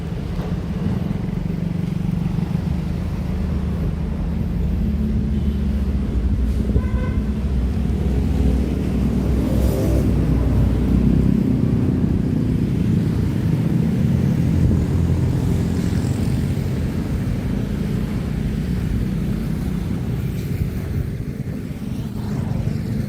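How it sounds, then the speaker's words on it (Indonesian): Diesel locomotive Keiashima No. 9 shunting loaded sugarcane wagons beside a road, a loud continuous low engine drone that swells slightly mid-way, with a brief metallic clank and squeal. "Nah itu lokomotif diesel Keiashima nomor 9 yang bertugas melangsir lori bermuatan dari kren"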